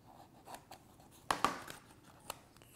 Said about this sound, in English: Just take my razor blade and slit that piece of tape